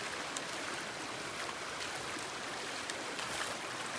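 Steady broadband rush of a shallow Ozark Highlands stream as hikers wade through it, continuous and fairly close, with faint splashy flecks and no talking.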